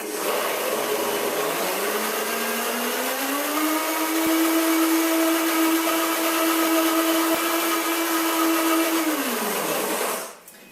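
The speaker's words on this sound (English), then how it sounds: "You want to blend it until it's really, really smooth." Countertop blender whirring steadily through a raw mint chocolate torte filling, its motor climbing to a higher, sustained pitch midway and running smoothly for several seconds before winding down and stopping at the end.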